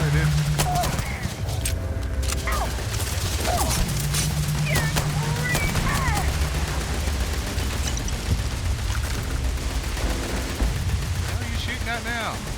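Gunfire in the sci-fi video game Starfield, steady bursts of shots and booms running throughout, dense and loud, with game music and effects layered underneath.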